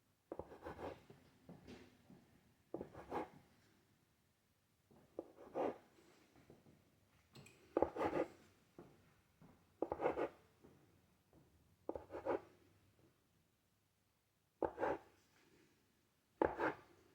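Soft Iraqi kleicha cookie dough being cut at an angle with a knife on a board, a regular series of short, muffled chopping taps about every two seconds, close and quiet.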